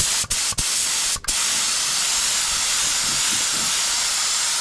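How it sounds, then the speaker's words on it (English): A paint spray gun blasts leftover thinner onto weeds while a 1992 Nissan 300ZX Z32 fibreglass bumper is being painted, giving a steady loud continuous hiss broken by three quick stops near the start. "we're getting rid of the thinner and we're spraying the gun"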